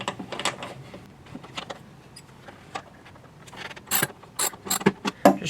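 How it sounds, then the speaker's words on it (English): A ratchet wrench loosening a bolt on a Taylor 314 guitar clicks in short bursts of metallic ratcheting, sparse at first, then louder and quicker toward the end. "Just trying to use the wrench to break it loose so I can do it by hand"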